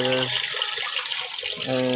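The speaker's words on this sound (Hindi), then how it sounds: "ये मोटर खड्डे में लगा कर रखी है। ये पानी उठा उठा कर बाहर फेंक रही है।" An electric motor pump set in a pit in a village lane throws water out, a steady rushing splash of water heard close, with a motor hum at the start and end.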